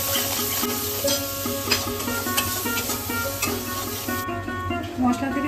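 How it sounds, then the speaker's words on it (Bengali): Spices frying in oil in a pan for a Bengali mustard fish curry, stirred steadily: a continuous close sizzle with soft scraping strokes of the spoon throughout, and no talking. "মশলাগুলো ভালো করে ভেজে নিচ্ছি।"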